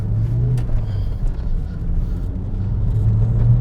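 A 1987 Renault 5 GT Turbo accelerates from a lower speed, giving a steady, loud engine drone with low rumble throughout and a slight rise in pitch as it pulls.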